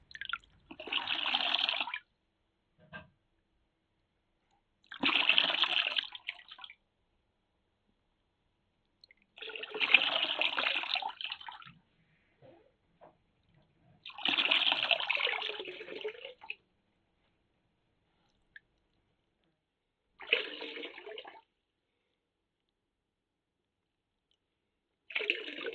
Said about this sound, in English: the artist then squeezes it out again, expelling the water in the other bucket